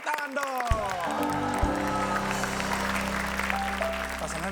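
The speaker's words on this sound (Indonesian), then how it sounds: "tepuk tangan dong" A crowd claps to welcome an arriving couple at an Indonesian entertainment show, steady applause running beneath music and people talking.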